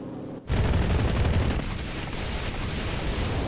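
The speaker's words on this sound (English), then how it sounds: "I'm just gonna drop some rockets" An aircraft in the Enlisted video game fires rockets, a dense, loud barrage of rapid blasts and roaring launches that sets off suddenly after a brief quiet moment and keeps rumbling throughout.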